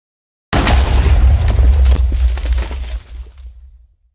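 A nuclear reactor melts down in modded Minecraft with a single sudden loud boom that rolls on as a deep rumbling explosion for about three seconds before fading out.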